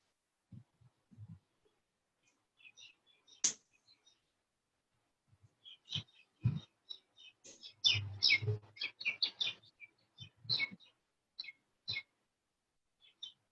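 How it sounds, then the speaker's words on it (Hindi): A bird chirps inside a home with short, faint, scattered tweets and calls spread out over several seconds in an otherwise quiet room. "कोई तो चिड़िया के साथ खेल रहा है घर पे"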